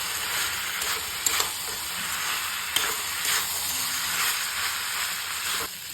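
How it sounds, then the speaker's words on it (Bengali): Ivy gourd and potato pieces fry in spiced oil in a pan, giving a steady loud sizzle and hiss with occasional clinks of stirring, and no talk. "এবারে কুঁদরি আর আলুর ভাজাটা দিয়ে দেব, দিয়ে কষিয়ে নেব"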